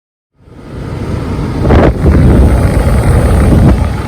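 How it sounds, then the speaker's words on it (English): Strong outdoor wind buffeting the microphone beside a Toyota Camry, a loud rumbling roar that surges in after a brief silence and stays heavy and continuous. "It gets pretty windy"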